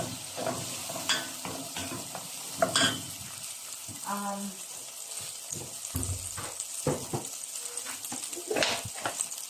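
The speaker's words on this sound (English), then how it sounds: "Give it a good stir." Butter chicken sizzles in a pan as a spoon stirs it, close frying hiss broken by scrapes, clinks and soft bubbling, uneven and busy throughout.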